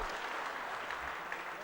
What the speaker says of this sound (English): give a huge round of applause for Institute of Chartered Accountants of Bangladesh